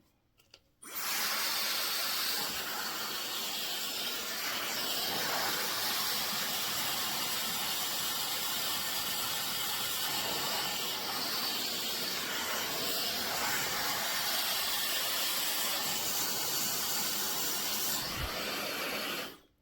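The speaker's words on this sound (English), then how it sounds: "I am going to blow dry it in the opposite direction that I want it to sit." Handheld hair dryer blowing steadily on face-framing layers, one continuous close airy roar that holds for most of the span with only slight shifts as sections change, no talk over it.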